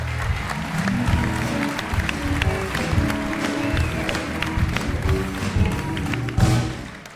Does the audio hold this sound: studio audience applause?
yes